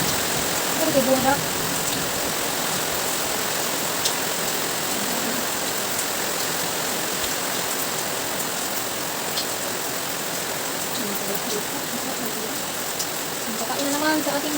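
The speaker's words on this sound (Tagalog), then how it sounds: "Walang humpay ang ulan, gabi at araw" Heavy, unrelenting rain pours down in a dense, steady hiss that fills the whole stretch, close and loud, with faint scattered sounds now and then beneath it.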